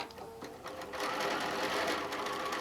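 Rapid, steady mechanical chatter from a sewing machine stitching quilt panel fabric along a line, continuous and close for a few seconds without talk.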